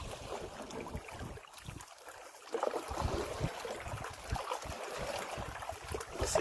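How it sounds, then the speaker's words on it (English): A paddle dips and pulls through water beside a canoe as strokes switch from side to side, producing soft splashes and gurgles over a light outdoor background, close by and fairly quiet. "You have to keep switching back and forth on each side, keep your canoe going right."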